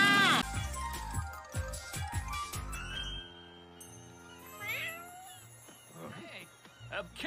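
A cat meows and caterwauls amid a busy mix of music and clattering sounds, with a voice briefly heard partway through.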